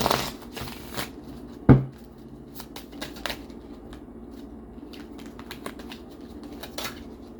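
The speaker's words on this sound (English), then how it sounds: "All right, let's flip over to some oracle cards." Oracle cards being shuffled up close, a sharp riffle and slap near the start followed by a long stretch of soft, irregular card flicks and rustles.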